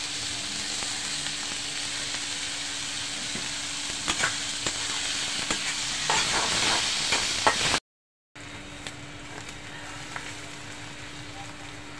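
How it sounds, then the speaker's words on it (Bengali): Onions frying in a pan with a pinch of salt, before jackfruit seeds are added, with a continuous soft hiss and occasional stirring clicks, broken briefly by a short dropout near the end. "বন্ধুরা দেখুন, পেঁয়াজগুলো এইভাবে ভেজে নিছি।"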